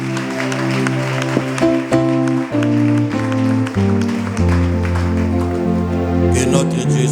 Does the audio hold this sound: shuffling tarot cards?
no